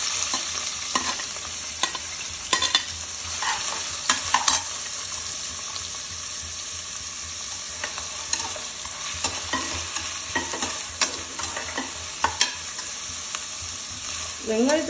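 Onions sizzle steadily in oil in a pan while being stirred, with scraping clicks from a utensil at irregular intervals, close and fairly loud.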